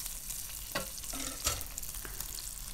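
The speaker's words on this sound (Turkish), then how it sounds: "biraz da burada etimizi sotelememiz gerekecek" Meat sautéing in olive oil in a wide pot, a soft steady sizzle with faint stirring scrapes and small clinks, close by and without talk.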